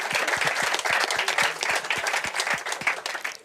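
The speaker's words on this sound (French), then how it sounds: "On peut l'applaudir." An audience applauds a contestant at a French Tech Day pitch competition, steady dense clapping throughout with a few sharper individual claps standing out near the front.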